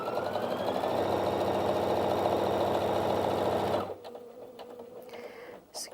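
Brother Inventio NV1350 sewing machine running at top speed, a loud, close, steady rapid mechanical whirr of stitching that cuts off sharply near the end, leaving quiet room noise.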